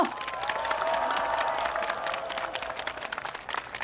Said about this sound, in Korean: 다시 한번 박수 보내주십시오